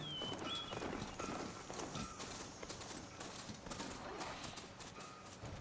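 Horse hooves clip-clopping in rapid, uneven beats in the video game Horizon Forbidden West, mixed with game effects and a voice talking over them.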